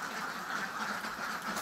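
Ducks on a duck farm quack in a continuous chorus, moderately loud, with many overlapping calls and no pauses.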